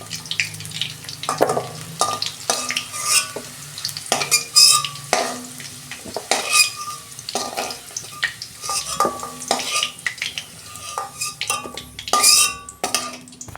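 Ivy gourd frying in hot oil in a kitchen pan, after potatoes were fried in the same oil, with a steady soft sizzle under repeated stirring scrapes and light clinks of a utensil against the pan.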